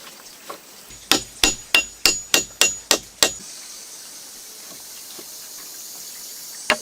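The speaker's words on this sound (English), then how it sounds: "A small axe tapped the peg home." A small axe taps a wooden peg into a log-cabin A-frame joint, eight sharp, evenly spaced knocks in quick succession, then quiet outdoor ambience with one last faint knock.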